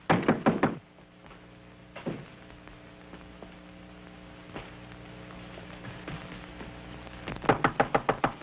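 Knocking on a locked door in a soundproof room: quick loud bursts of raps at the start and end, with a few single thuds in between over a steady electrical hum, and no one speaking.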